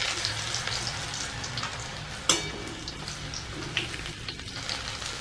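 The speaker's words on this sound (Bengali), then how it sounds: "আমি আর যেগুলো রয়েছে সেগুলো ভেজে নেব।" Semolina-coated snail stick kebabs fry in hot oil, giving a continuous close crackling hiss with one sharp tap midway and no voices.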